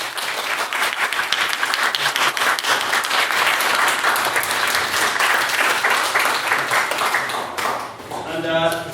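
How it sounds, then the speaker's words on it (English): Audience applause after a competitive debate speech on censoring historical works: dense, sustained clapping from a crowd for about eight seconds, fading briefly near the end before a voice begins speaking over it. "if we could get a second round of applause for Mr. Holmes's main speech"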